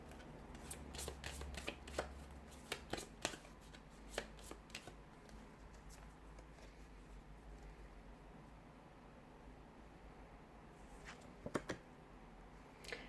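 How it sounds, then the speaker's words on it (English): A deck of cards being shuffled close up, with repeated crisp riffling bursts in the first five seconds, a quieter stretch, then another riffle near the end, all without speech. "I'm going to go ahead and shuffle the cards"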